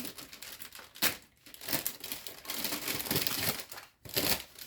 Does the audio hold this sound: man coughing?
no